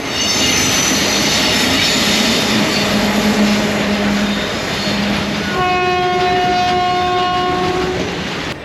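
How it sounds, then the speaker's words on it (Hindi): A goods train rolls past on a railway line near the Digha bridge approach to JP Setu in Bihar, a loud continuous rumble and rattle of wagons for the whole stretch, with a sustained horn-like tone near the end. "ये देखिए इधर से गुड्स ट्रेन आ रही है"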